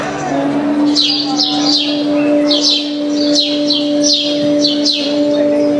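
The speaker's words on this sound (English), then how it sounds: "With the sound of early morning birds, he wakes up." Birds chirp in quick repeated bursts over a steady low hum, their bright tweets scattered across several seconds.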